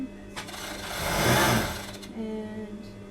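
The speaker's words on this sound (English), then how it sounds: "So you can tell sewing strips together is super quick." A sewing machine, likely an overlocker, stitches coloured fabric strips together in a steady mechanical whir that swells in the middle and eases off, heard up close with a voice speaking over parts of it.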